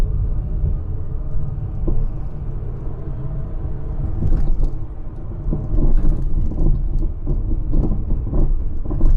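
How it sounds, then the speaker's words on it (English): Continuous low rumbling road noise with repeated knocks and thumps from a 50-year-old British Leyland Austin Allegro's suspension jolting over a rough road, loud and close. "Now you can hear the suspension."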